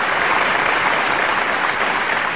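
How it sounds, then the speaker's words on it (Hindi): An audience at a live poetry recital bursts into applause for the poet Neeraj, a dense, continuous clatter of many hands filling the whole moment at steady volume. "आप तालियां बजाइए आदरणीय नीरज जी के लिए"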